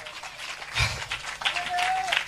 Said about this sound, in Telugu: చప్పట్లు కొట్టండి మాట కొరకు